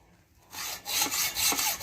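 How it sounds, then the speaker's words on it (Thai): A hand saw cuts through the seized center-stand pivot pin of a Yamaha Fino scooter, making a few rasping back-and-forth strokes, close and steady after a moment of quiet. "ก็เลยต้องใช้วิธีเลื่อยเลยนะครับ"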